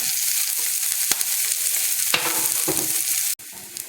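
Onions sizzle in hot oil in a pan as a Tamil banana-flower poriyal is cooked, with a constant loud frying hiss and occasional scraping stirs, and no voices.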